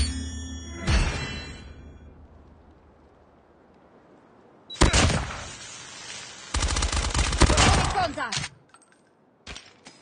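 Bursts of gunfire from the Call of Duty Mobile video game using the Cordite weapon: a short volley, a quiet stretch, then two long loud rapid-fire bursts and a brief final burst, close and dominant.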